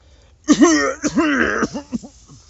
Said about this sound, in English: Trying to talk while coughing